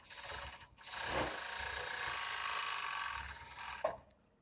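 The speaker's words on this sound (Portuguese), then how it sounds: "vou estar fazendo aqui tudo que precisa aqui no overlock" Overlock serger machine stitching tulle and lace for a bra, a short fast mechanical whirring run of about three seconds, faint and close, ending with a small click.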